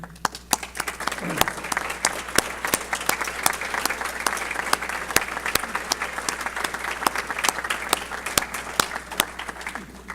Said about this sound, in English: stand as you're able so we can give you a quick round of applause